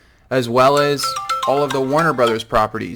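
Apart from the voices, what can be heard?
phone ringing during recording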